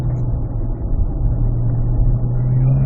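A Chevrolet Corvette E-Ray on an autocross course gives a steady, close engine drone with a strong low hum, holding fairly even throughout with small surges and no talking.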